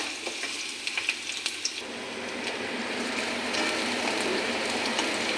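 Onion and garlic fry in a generous amount of oil, a steady close sizzle that builds and thickens over the few seconds. A handful of sharp ticks and pops come early, and nobody speaks.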